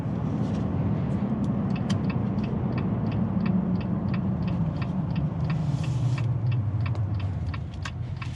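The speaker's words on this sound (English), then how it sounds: "It sounds kind of like a race car, the way it's revving and everything" A 2020 Jeep Gladiator pickup's engine drones steadily and loudly from inside the cab on a test drive, a continuous low rumble with a slowly shifting pitch and faint ticking clicks over it.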